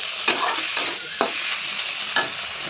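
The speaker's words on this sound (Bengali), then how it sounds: "আমাদের চিংড়ি মাছগুলো প্রায় ভাজা ভাজা হয়ে এসছে" Prawns stirred and frying in a hot pan, a steady close sizzle broken by three or four sharp scraping strokes of the spoon against the pan, with no voices.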